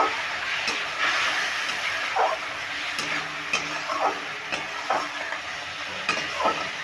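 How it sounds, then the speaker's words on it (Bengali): Spice paste with Kashmiri chilli and a splash of water sizzling and being stirred in a pan while cooking chana dal with bottle gourd, steady frying hiss with repeated soft scraping strokes, close and alone. "দেখো মশলাটা কষাতে কষতে হবে"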